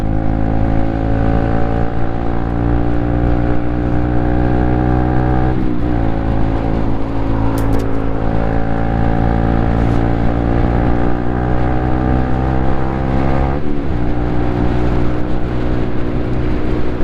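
Small engine of a toy Honda CB125 motorcycle revving at a steady high pitch, loud and close, with two brief dips where it shifts gear before climbing again.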